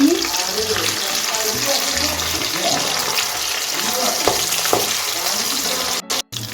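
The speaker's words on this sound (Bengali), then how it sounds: "এখন আমি অপর পাশ বেজে নেবো জন্য মাছগুলো উল্টিয়ে দিচ্ছি" Pabda fish frying in hot oil after being flipped, producing a loud continuous close sizzle that cuts out briefly in two short gaps near the end.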